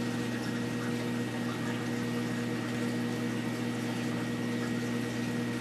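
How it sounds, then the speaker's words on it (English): Aquarium water siphons through small tubing, giving a steady, even rush of flowing liquid with a faint hum, continuous and close for the whole stretch, with no voices. "To start a siphon, all you gotta do is essentially suck on the end of the tube"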